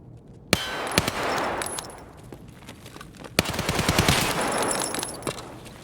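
Gunfire in the video game Escape from Tarkov rings out as sharp, loud single shots with metallic clangs and rapid bursts between them, heard up close without any talking.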